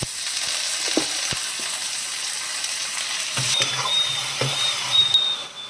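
Brinjal pieces with curry leaves and crushed garlic fry in a pan, producing an even, hissing sizzle with a few soft clicks and stirring knocks and a brief louder burst near the end.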